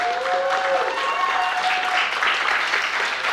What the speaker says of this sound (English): I think we should give a big round of applause for Nick Cosmi for taking time today.